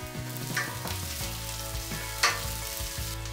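Minced garlic, ginger and shallot frying in oil in a sauté pan, a steady close sizzle with a few sharper crackles and spits, with music running underneath and no talking.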